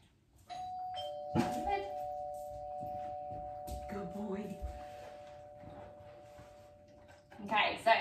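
A doorbell rings in a home during dog training at the front door, a sustained electronic chime tone holding for several seconds while a person talks and moves nearby.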